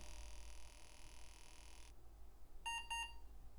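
Computer power-on self-test beeps from an old tower PC with no hard drive controller fitted, two short close electronic beeps after a fading high whine, faint hum underneath.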